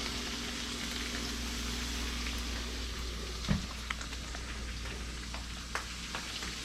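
Potatoes frying in a pan: a continuous soft hissing sizzle with faint crackles and a low steady hum, fairly quiet, with a brief clunk partway through and no talking.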